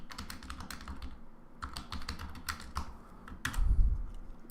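Typing on a computer keyboard, rapid runs of sharp key clicks in uneven bursts with brief gaps, moderately close, ending with a low thump and rustle.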